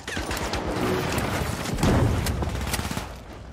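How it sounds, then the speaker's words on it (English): Frag grenade tossed in The Finals shooter game, with a chaotic burst of gunfire and a muffled explosive thump amid dense, loud combat noise. "Frag out. Tossing a frag."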